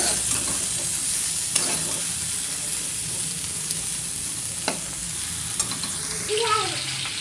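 Cauliflower fries in oil in a pan with a steady bright sizzle. A few sharp utensil clicks are heard, and a faint tonal sound comes near the end.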